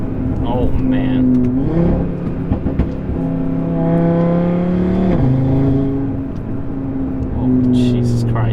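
An Audi RS3 with a loud exhaust revs aggressively nearby, the engine note rising and falling through several swells over a continuous rumble.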